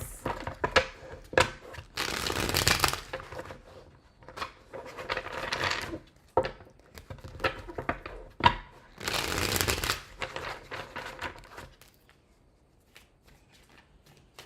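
Tarot cards being shuffled close up in two brisk riffling bursts, with quieter handling and soft rustling of the deck between them.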